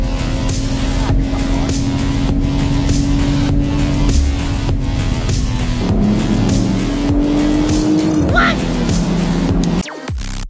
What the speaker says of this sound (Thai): วันนี้เป็นวันที่เรามาขับรถนะฮะมาลองสมรรถนะของรถกันในสนาม